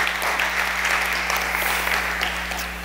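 Church congregation applauding at a sermon, steady dense clapping filling the whole stretch, fairly loud and close, no talk over it.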